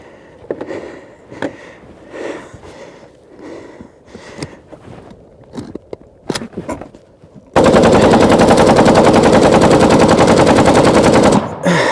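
Kalashnikov automatic rifle firing in bursts: a series of sharp single and short-burst shots, then a long, loud continuous stream of automatic fire lasting about four seconds, close by, with no talk.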